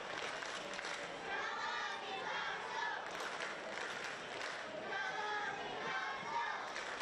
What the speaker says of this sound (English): Crowd in fine voice, of course located behind our camera setup, making full use of the shade in the stand.